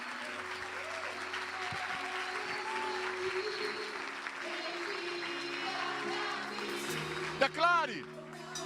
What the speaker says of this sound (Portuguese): aplauso para o Senhor